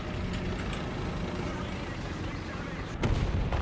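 Gunfire strikes a tank in the War Thunder video game, a rumbling engine bed with a sharp loud impact burst near the end, a voice reacting over it.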